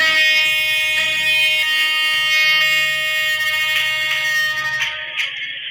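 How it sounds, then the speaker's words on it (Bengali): A train horn in the Train Simulator Bangladesh game sounds as one long, loud, steady multi-tone blast lasting several seconds, then cuts off abruptly, with a low engine rumble beneath it. "আমরা লুক লাইনে ঢুকছি। হর্ন দিই।"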